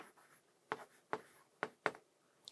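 A pen or pencil writes a math equation, making four or five quiet, sharp scratching strokes spaced roughly evenly.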